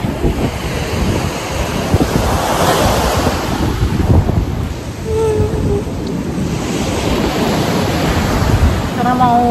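Ocean waves wash onto Geger Beach in Bali, a loud continuous roar of surf mixed with heavy wind buffeting the microphone, with no clear talk over it.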